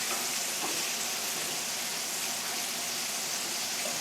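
Chicken pan-fries in a hot cast iron skillet, with a steady, dense sizzle and crackle of hot oil that stays even throughout, close up and with no talking.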